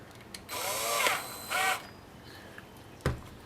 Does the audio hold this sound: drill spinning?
yes